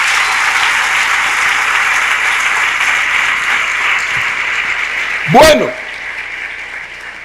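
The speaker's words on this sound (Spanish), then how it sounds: "Démosle un aplauso al Señor Jesús." Sustained congregational applause fills a church during a 1996 Spanish-language sermon, with a brief spoken word near the end.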